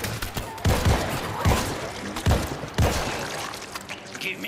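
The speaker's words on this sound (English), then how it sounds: "Machine gun is in." Bursts of gunfire crack out in a zombie horror shooter, several loud volleys spaced about a second apart, each a short broadband blast over a steady rumbling background with no talk.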